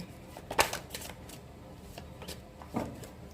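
Tarot-style cards being shuffled by hand, a few short papery riffles and flicks with pauses between them, close and fairly quiet, heard alone without talk.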